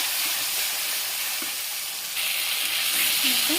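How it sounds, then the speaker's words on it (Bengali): Ginger, garlic and onion paste frying in oil in a pan, a steady dense sizzle and hiss throughout with faint stirring scrapes, no voices. "এখন আদা রসুন পেঁয়াজ পেস্টটা দিয়ে দিলাম, একটু ভেজে নিই ভালো করে"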